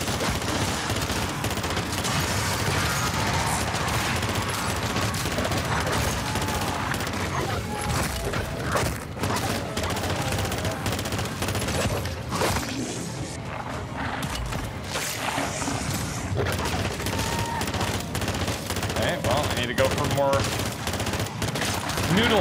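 Gunfire in the video game MW3 Zombies, dense and relentless: rapid automatic bursts and overlapping shots pile up over mechanical clatter, with a voice speaking now and then beneath the barrage.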